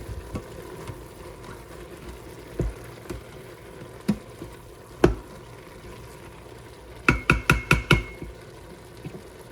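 A spoon works through a pot of homemade meal-prep soup, giving scattered single clinks against the pot over a low simmering hiss, then a quick run of five or six sharp metallic taps near the end.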